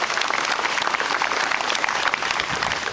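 Steady, dense applause fills a September 11th ceremony in Marine Park as the crowd claps for the Boy Scouts who led the Pledge of Allegiance, continuous and close without a break.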